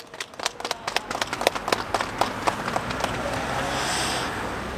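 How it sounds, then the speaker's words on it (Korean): An audience gives a burst of applause to welcome performers at an outdoor community gathering for elderly residents in Gangwon, Korea, crisp clapping that fades after a few seconds into steady wind-like background noise. "박수로 맞이해 주시기 바랍니다"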